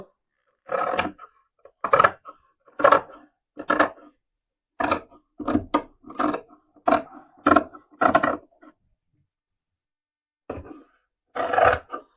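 Scissors cut through shirt fabric for a sleeve in short, separate snipping strokes, about a dozen crisp rasping bursts in an uneven rhythm with quiet gaps between them, close by and with no talking.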